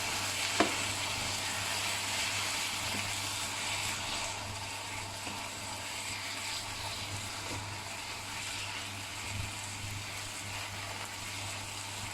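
Ground meat cooks in a pan for a savoury stuffed-pastry filling, giving a steady, broad sizzle with a low hum beneath and an occasional faint scrape, continuous throughout and without any talk.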